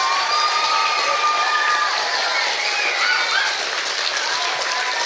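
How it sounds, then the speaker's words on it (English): An audience at a school production of Matilda the Mini Musical claps and cheers, with dense, sustained applause and scattered shouts filling the whole stretch. "we'll give Anthony a round of applause"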